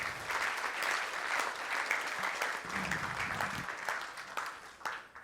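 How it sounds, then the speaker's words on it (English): A conference audience gives a speaker a steady round of applause, many hands clapping at a moderate, somewhat distant level throughout, with a faint voice underneath. "Big round of applause for Evan"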